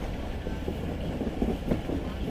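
A passenger train running on the railway between Gojra and Toba Tek Singh, heard from inside as a steady loud rumble with rhythmic wheel clatter over the rails, no talk.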